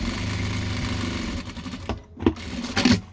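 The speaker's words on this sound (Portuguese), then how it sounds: "E agora eu venho pelo outro lado e passo uma costura na pontinha." A sewing machine runs steadily with a whirring motor hum as it stitches along a fabric edge, then stops, leaving a few light handling clicks and rustles.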